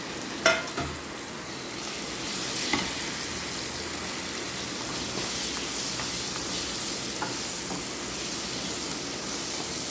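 Chili powder, asafoetida and fenugreek fry in a pan while being stirred, giving a steady close sizzle and hiss with a few sharp scrapes and clicks of the spoon, no voices.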